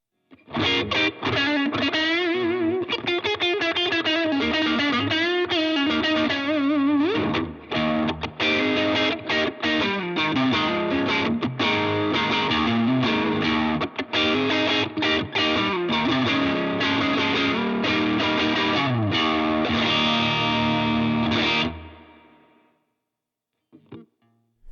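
Electric guitar with a split-coil tone from the two inner coils, played through an Engl Powerball distortion pedal, with bluesy bends and riffs for about twenty seconds, then fading to silence.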